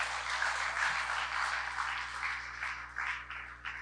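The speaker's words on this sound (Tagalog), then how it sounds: "mas malakas sa palakpak sa Panginoon" A church congregation applauds in a steady, continuous wash of clapping, moderately distant and even in level, with a faint hum underneath and no clear talking.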